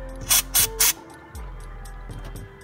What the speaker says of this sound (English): get some brake clean, spray everything down